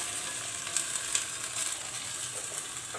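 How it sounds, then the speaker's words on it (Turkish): Green beans are tipped into a hot pan and sizzle with a steady frying hiss, marked by a few crisp pops and crackles. The sound is close but fairly quiet, with no talking. "Hemen yeşil fasulyemi koyuyorum üzerine."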